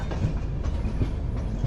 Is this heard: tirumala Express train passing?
yes